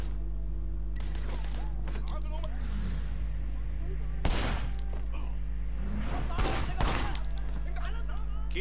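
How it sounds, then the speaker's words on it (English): Bursts of gunfire from a car in the game Sleeping Dogs, a few sharp shots standing out over a constant engine drone and game music, with voices speaking at times. "There was a shooter. Got him. Firing shots from the passenger window."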